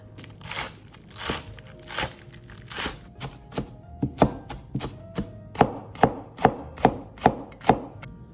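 Knife chopping herb garnish for Vietnamese beef pho on a cutting board, crisp close thunks speeding into an even, steady rhythm over several seconds.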